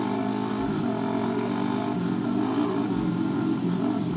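ATV four-wheeler engine revving in a steady, buzzy drone at moderate distance, holding a dense rumble with slight fluctuations throughout.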